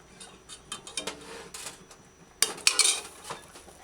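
A metal spoon or fork clinks and scrapes against a pot several times, lifting codfish from boiling water, with light bubbling and sizzling in between, close and moderately loud.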